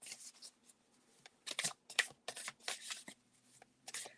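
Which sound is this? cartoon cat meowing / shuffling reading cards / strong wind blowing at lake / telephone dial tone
shuffling reading cards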